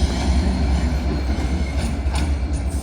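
Class 69 locomotive 69003 'The Railway Observer' rolls steadily through Grantham on the East Coast Main Line, a loud, continuous low rumble and drone of engine and wheels, close by, without speech.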